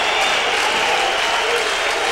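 A stadium crowd at a football match applauds as a Swedish player is substituted, a loud, dense and steady roar of clapping filling the whole moment.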